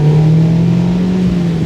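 A Mazda MX-5 ND Miata fitted with an aftermarket exhaust pulls under power, a steady engine drone held close and loud through a brief stretch with no talk.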